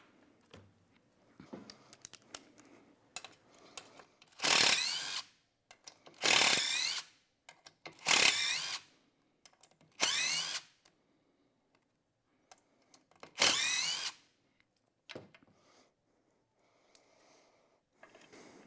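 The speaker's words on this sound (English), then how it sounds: "I always snug them up with an impact." An impact driver snugs up the bolts on sledge wear pads in five short bursts of loud rattling hammering, separated by pauses filled with light clicks and handling noises.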